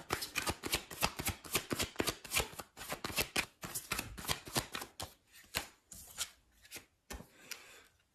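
Tarot cards being shuffled and drawn, close and fairly soft: rhythmic riffling bursts repeat steadily, then thin out into a few separate slaps and slides near the end, with no talking.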